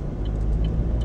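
A car drives slowly along a road, heard as a steady, close, low rumble of road and engine noise with no voices.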